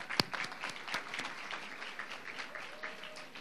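An audience at a teacher awards ceremony applauds in scattered, moderately faint clapping that continues steadily throughout, with a few sharper claps standing out near the start.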